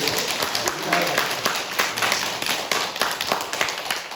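A church congregation claps together at a Thanksgiving service, a dense, steady patter of many hands close by that lasts throughout.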